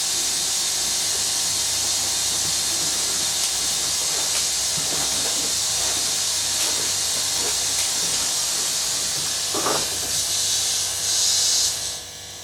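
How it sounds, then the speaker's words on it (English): Steady broadband hiss of compressed air escaping through a leak at around 20 litres per minute, continuous and fairly loud, with faint clicks partway and a brief brighter surge near the end. "So that's showing the airflow through the leak at the moment, and that's around 20 litres per minute."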